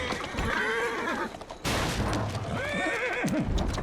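Horses in Assassin's Creed Syndicate whinny loudly twice with wavering, drawn-out neighs, over a steady bed of clip-clopping hooves and carriage rumble, close and continuous.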